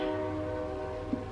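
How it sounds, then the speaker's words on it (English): A train passes nearby, its horn sounding steadily with layered tones over a continuous rumble, fairly loud and alone, heard indoors during a makeup palette review. "Apologies for the train."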